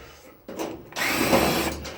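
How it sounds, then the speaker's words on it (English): Power drill removing screws, with a short whir that stops, then a longer, louder high-pitched run close by. "Next, you get your power drill and take off some of these screws here."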